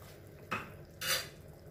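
Fish heads, washed with salt and tamarind, drop into a cooking pot for a Kottayam-style fish head chilli curry, giving two short clattering thuds about half a second apart, close and moderately loud.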